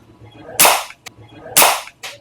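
Two sharp pops from a JR Mangio Patrol CO2 airgun, each a loud close crack followed by a short metallic click, spaced about a second apart outdoors.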